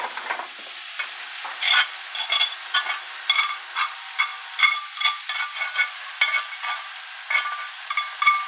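Quinoa dropped into a hot pan gives a light sizzle under a repeated rhythm of a spoon stirring and scraping, close and fairly quiet, without speech.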